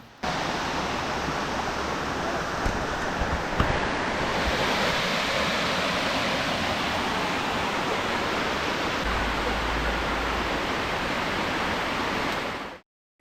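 A loud, continuous rushing roar of the Madasseri waterfall at Vazhichal, Amboori, steady throughout and close by, with no talking.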